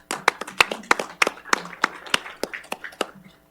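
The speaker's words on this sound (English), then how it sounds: "A round of applause for this." Sparse applause from a small group at a city council work session, distinct individual claps in an uneven rhythm lasting a few seconds before fading out.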